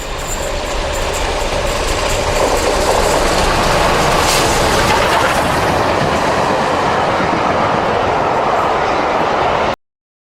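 The Spitfire steam locomotive train running from Victoria to Faversham passes Sandling, a loud, steady rumble of engine and rolling wagons lasting nearly ten seconds before cutting off abruptly.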